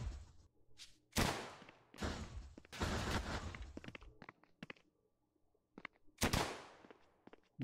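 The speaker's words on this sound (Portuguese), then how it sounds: "Deixa eu dar um tiro aqui, não." Gunfire in the Mini World: Block Art video game: several loud, sharp shots and short bursts spaced irregularly, each with a quick decay, separated by near-silent gaps and a few faint clicks.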